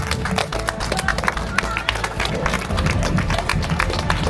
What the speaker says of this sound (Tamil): அவங்களுக்கு ஒரு பெரிய கைத்தட்டல் கொடுத்துருவோமா?